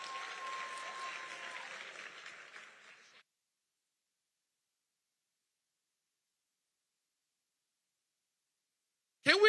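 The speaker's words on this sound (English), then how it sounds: "Can we give Susan a big round of applause and thank you for your generosity?" A sold-out evening event's audience breaks into applause, a dense clapping crowd that fades out after about three seconds, followed by silence and a brief burst of sound at the very end.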